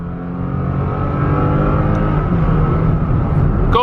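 A Toyota Tacoma pickup with a six-cylinder engine accelerating, giving a loud, close, steady engine drone that rises gradually in pitch, with a whir under it and no talk.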